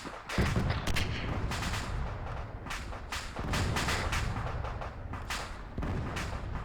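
Sustained Arma 3 combat gunfire: irregular bursts of rifle and machine-gun shots mixed with heavy thumping booms, moderately distant and continuous throughout with no talk.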